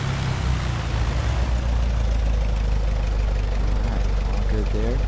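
Aircraft engine running up in Microsoft Flight Simulator X, a steady loud droning hum with heavy low rumble and a slight rise in pitch, holding throughout under a talking voice.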